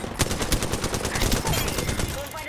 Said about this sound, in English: I'm putting down suppressive fire.